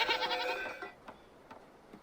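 Goats bleat in a farming video game, a burst of nasal, wavering cries up front, then a few faint clicks as the sound fades to quiet.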